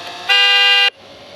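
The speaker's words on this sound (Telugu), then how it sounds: "హారన్ కొట్టుకుంటా" A Ferrari luxury car sounds its horn in a single loud, sustained honk of about half a second, sharp and close, cutting off abruptly into quiet.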